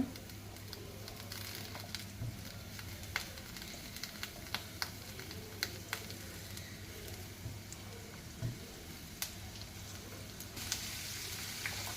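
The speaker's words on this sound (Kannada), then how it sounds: "ನೋಡಿ ಚೆನ್ನಾಗಿ ಫ್ರೈ ಮಾಡ್ಕೋಬೇಕು. ಇದೆಲ್ಲ ಕೆಂಪಾಗಬೇಕು ಈರುಳ್ಳಿ." Onions, curry leaves and green chilies fry in a pan for mutton pepper, a soft continuous sizzle with scattered sharp pops and crackles, fairly faint and close, no talk.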